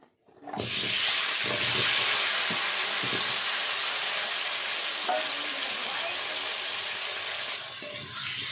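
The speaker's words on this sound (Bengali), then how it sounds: "ওই তেলে আলুটা ভেজে নেব।" Potatoes frying in hot oil, a loud steady sizzle and hiss that starts abruptly and holds throughout, with a few faint clinks over it.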